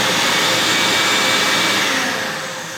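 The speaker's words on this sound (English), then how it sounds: "the vacuum gets sucked up here, goes around in the cyclone and into this big 10-gallon bucket" A shop vacuum roars steadily while drawing air through a cyclone dust separator into a 10-gallon bucket, a loud broadband whoosh that holds constant and then tapers slightly at the end.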